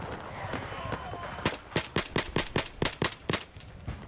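Rapid rifle gunfire in the video game Battlefield 4, about ten sharp shots in an even, fast rhythm, loud and close, following a stretch of faint background noise.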